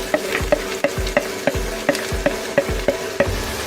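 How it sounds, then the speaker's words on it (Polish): Onion sizzles steadily in a hot pan while a utensil scrapes and taps through it in a quick, regular stirring rhythm. "więc chwilę ją tylko podsmażamy"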